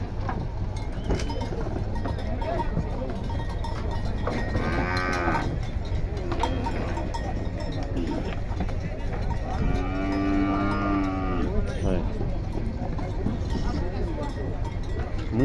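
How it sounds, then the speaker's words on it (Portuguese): Cattle moo as they are unloaded at a livestock fair in Tabira, Pernambuco, several long lowing calls rising above a constant crowd and engine din, with people talking nearby and a cowbell clanking. "Muito gado"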